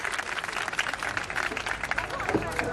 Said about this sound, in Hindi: जोरदार तालियों के साथ स्वागत ADM साहब, जोरदार तालियों के साथ बच्चों